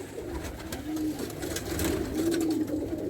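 A racing pigeon in a loft gives soft, rounded coos, two or three rising and falling calls close by over a faint, quiet background.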